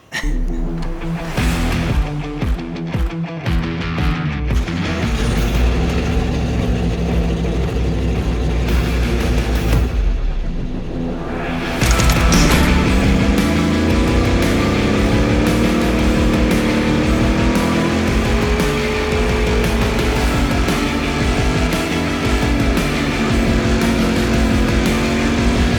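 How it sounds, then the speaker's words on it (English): A car does a smoky tire burnout to destroy its worn tires, the engine roaring loudly at sustained high revs with rising pitch and tire squeal, a brief dip near the middle before it surges back even louder and holds steady. "And what better way than a nice smoky burnout?"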